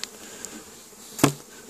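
Honey bees drift around an open hive in a spring bee yard, a faint, steady buzz with a single brief knock of hive woodwork partway through.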